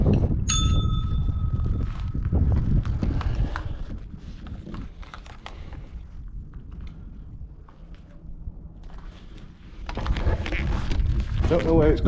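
A bell rings near a haunted tunnel at a camping spot, a bright sustained ring early on, followed by rumbling noise with a person talking over it.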